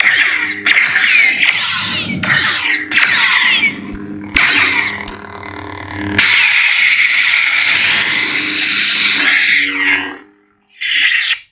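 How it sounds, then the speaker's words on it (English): Blaster bolt effects from a Proffie-board lightsaber, a run of sharp electronic zaps and buzzing bursts over a steady humming blade, loud and close. "Blaster bolts."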